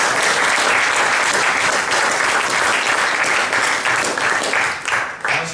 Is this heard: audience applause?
yes